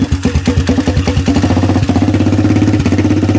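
Minibike engine revved with the throttle: a loud, close, chugging single-cylinder putter with rapid regular pulses that quicken and smooth out as the revs climb.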